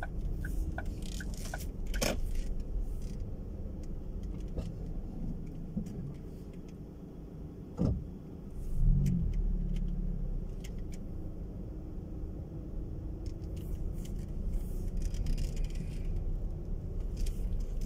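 A car drives slowly through a shopping centre car park at Woodside Estate in Dunstable, UK, its steady low engine rumble running throughout with a brief louder bump and scrape partway through.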